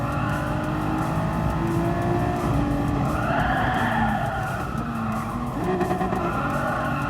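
A LaFerrari race car in Gran Turismo Sport skids with loud, sustained tire squeal over a continuous engine roar, the screeching pitch shifting throughout as the car slides through corners.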